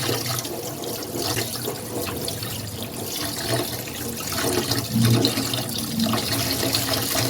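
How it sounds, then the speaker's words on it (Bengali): Dried fish gets washed under running water, a steady splashing flow from a tap with a brief louder gush partway through, heard up close with no talking. "শুটকিগুলোকে ভালো করে আমি ধুয়ে নেব"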